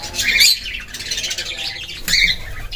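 Budgerigars in a breeding setup with clay nest pots squawk loudly in two harsh bursts, with busy chirping and chatter from the flock in between.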